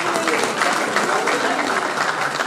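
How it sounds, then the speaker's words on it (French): Applause from an audience at a community gathering in Paris, steady and dense for the whole stretch, loud and close with many hands clapping at once. "que je vous demande également d'applaudir amplement."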